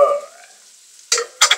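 Onions fry in a pan for an Argentinian beef goulash. A brief sizzle fades out, then a near, crisp scrape of stirring comes twice in quick succession.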